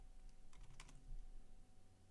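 Faint, soft keystrokes on a brand-new computer keyboard: a short cluster of quiet clicks in a near-silent room with low background hum.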